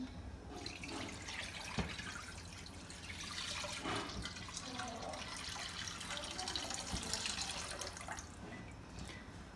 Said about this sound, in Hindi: पैन के अंदर हम दूध डाल देंगे।